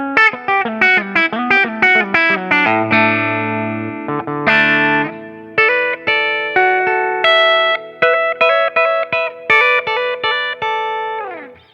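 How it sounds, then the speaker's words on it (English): A guitar played clean on its bridge pickup rings through a run of plucked single notes and chords with a bright attack and lingering sustain, playing alone without any voices. "So let's go to the bridge now and keep it clean and just see what that sounds like."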